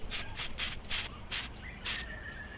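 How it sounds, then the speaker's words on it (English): Gold spray paint comes out of an aerosol can in six short, close hissing bursts, evenly spaced with brief pauses between them. "Now I'm gonna just spray the gold, see if I like the color."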